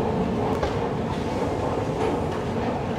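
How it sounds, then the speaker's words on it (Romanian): A metro train rumbles loudly and steadily through an underground station, with continuous close rail noise and faint clatter, alone and without talk. "Hai că trebuie să vină metrou imediat."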